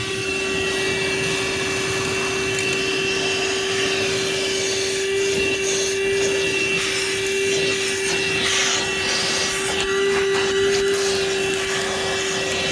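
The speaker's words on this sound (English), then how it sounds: "I'm just gonna do a quick vacuum" A Craftsman 20V wet/dry vacuum runs nearby with a loud, steady whine and a constant tone. Its pitch holds even from start to finish, and faint rattles of debris can be heard being sucked up.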